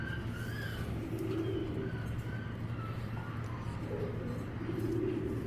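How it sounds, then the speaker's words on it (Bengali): A pair of Afsan grizzle and silver Afsan pigeons coo in soft, repeated low rolling calls, close by over a steady background hum. "খুবই সুন্দর অনেক সুন্দর কবুতর দুইটা।"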